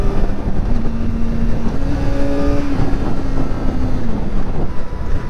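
A Kawasaki ZX-4RR motorcycle's stock exhaust roars loudly and steadily at speed, its note rising through gear changes, with wind buffeting the microphone throughout.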